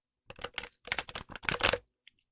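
Tarot cards are shuffled up close in quick riffling bursts, several rapid rustling flurries in a row, then they stop.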